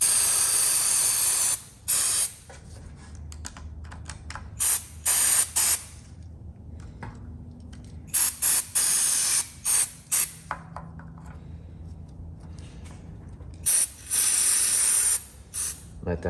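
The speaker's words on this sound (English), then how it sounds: "I'm gonna spray contact cleaner around this switch" Contact cleaner hisses from an aerosol can in repeated short bursts around the switch of a Black and Decker Model 6126 Type 3 polisher. The sprays are close and sharp, separated by quiet gaps.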